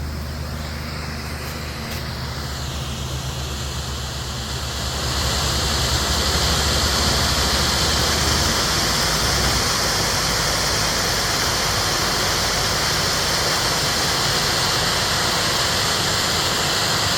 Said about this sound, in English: Oh, there's the waterfalls, partially frozen.